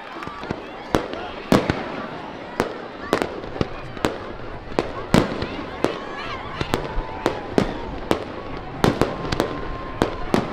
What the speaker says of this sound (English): these fireworks are going out here